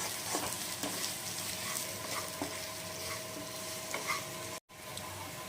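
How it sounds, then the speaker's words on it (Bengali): Spice masala of turmeric, Kashmiri red chilli and coriander powders stirred and fried in a pan, a continuous dense sizzle with soft scraping strokes and a brief cut near the end. "এখন মশলাটা একবার ভালো মতো মিক্স করে নেব।"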